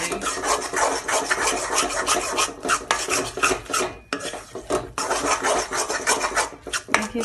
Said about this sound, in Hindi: अभी मैं इसके अंदर इलायची डालने लगी हूँ और साथ ही भून रही हूँ।